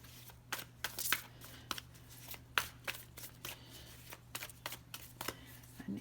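Animal oracle cards being shuffled, with crisp irregular riffles and slaps of the deck at close range over a low steady hum.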